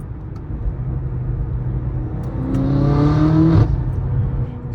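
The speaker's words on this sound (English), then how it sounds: "I've never had a car this loud. It sounds amazing." A loud BMW M5 engine with a full aftermarket exhaust and downpipes drones, then revs up in a rising throaty roar and cuts back sharply, with a deep rumbling exhaust note.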